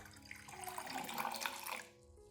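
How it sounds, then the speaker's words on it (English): Room-temperature water pours into a container to dilute a homemade orchid fertilizer solution, a close, gurgling splash swelling and easing over about two seconds before stopping. "add 1 liter of room temperature water to dilute the solution"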